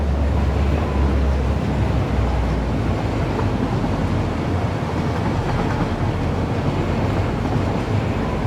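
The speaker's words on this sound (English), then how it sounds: "Let's just hope we can get to the base without the train breaking." A train rolls along in the video game Satisfactory, a loud, continuous rumble with steady rail clatter and a low hum throughout, with no voices.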